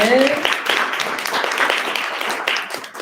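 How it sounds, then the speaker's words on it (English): Applause from an audience at a spring programs preview meeting, a modest burst of clapping that tapers off over a few seconds while someone talks. "We'll do one more round of applause for everybody that presented."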